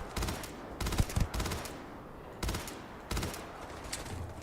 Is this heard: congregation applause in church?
no